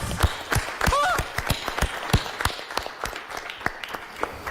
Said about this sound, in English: Give me a round of applause for Paul Tergat.